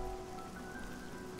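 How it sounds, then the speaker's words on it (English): Steady rain pours down in a downpour in the video game Oblivion, a dense continuous patter of drops on surfaces, low and even throughout. "Classic Leowyn downpour."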